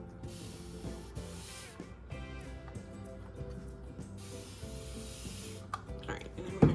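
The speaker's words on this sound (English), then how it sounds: "I just have a continuous mister here that I use for the spider enclosure." A continuous mister spray bottle sprays into a jumping spider enclosure, giving soft hissing bursts under steady background music.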